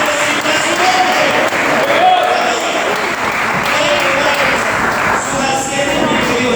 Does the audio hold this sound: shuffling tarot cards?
no